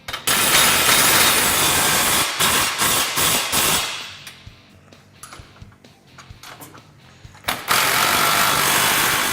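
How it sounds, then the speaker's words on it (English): A ratchet tightens the radius arm hardware on a Honda Talon, giving loud, rough bursts of rapid ratcheting with quieter clicking strokes in between and no voices. "Next, we're gonna go ahead and fully tighten our radius arms."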